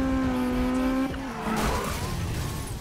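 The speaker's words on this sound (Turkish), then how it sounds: "Araba yan veriyor kendine." A car sliding sideways in the Need For Speed racing game: a steady engine tone drops away into a broad, hissing tire skid that holds for over a second, loud and close with no talk.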